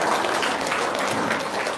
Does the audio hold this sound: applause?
yes